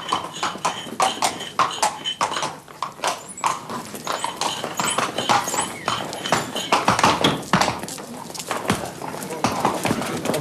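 Horse hooves clip-clop in a quick, uneven rhythm of sharp taps close by, with a whinny and voices talking over them during a riding scene in the French film Le Gerfaut.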